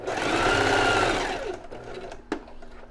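A domestic sewing machine runs a seam along the very edge of fabric for panties, whirring loudly and steadily up close for over a second, then slows and stops with a sharp mechanical clunk.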